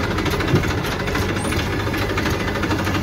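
A JCB 3DX Eco Xcellence backhoe loader loading mud into a tractor trolley: its diesel engine chugs in a loud, steady, close rumble with a knocking rhythm and constant vibration.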